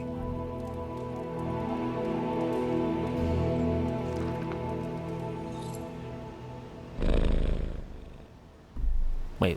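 A cat in the video game Marvel's Midnight Suns purrs steadily while being petted, a soft continuous rumble under game music, followed by a couple of louder breathy bursts near the end.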